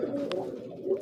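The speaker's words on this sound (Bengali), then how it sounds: "দেখেন আমার বিভিন্ন কালারের কবুতর আছে, এই যে দেখেন।" Pigeons of various colours cooing together in a loft, a steady low murmuring coo throughout the short moment with a brief higher chirp partway through.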